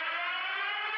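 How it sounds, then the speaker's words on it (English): Buzzer signaling the closing zone circle in a Free Fire esports match, a steady loud siren-like tone held for the full second with no other sounds. "the buzzer for the circle to close right in"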